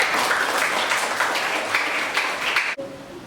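A classroom of students clapping together, a dense steady round of applause that cuts off abruptly near the end, leaving brief quiet room tone.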